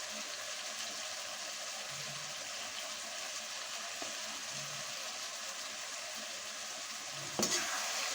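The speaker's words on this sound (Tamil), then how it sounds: "இப்போ பார்த்தீங்கன்னா எல்லோரும் நல்லா கிளறி விடுவோம்" Chilli powder and spices stirred in a frying pan, a soft steady sizzle with faint scraping running throughout, fairly quiet, with a brief louder clatter near the end and no speech.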